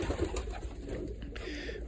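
Pigeons in a breeding loft with young squabs coo in soft, low, continuous murmurs, several birds overlapping close by against a busy loft background with no talk.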